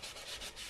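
Tung oil finish is rubbed into the sanded wood of a tenor ukulele body, giving a soft, close, steady rubbing swish in short repeated strokes with no voices.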